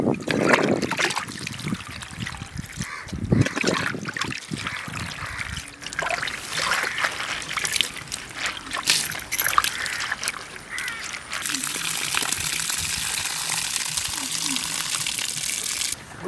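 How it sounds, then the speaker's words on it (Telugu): Gongura leaves being washed in water in a kitchen, with trickling and splashing sounds under talk, then a steadier hiss of running water toward the end. "గోంగూర శుభ్రంగా కడుక్కోవాలి."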